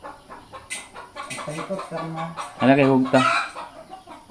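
Chickens cluck in a farmyard, giving a string of close, uneven clucks and squawks with a louder burst of calls toward the end. A person talks briefly among them.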